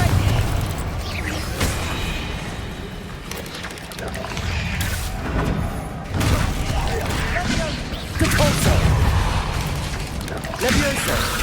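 Confringo fire spells from Hogwarts Legacy burst again and again, a run of booming explosions rolling through a dense, loud game soundscape, with shouted spell calls from a voice among them.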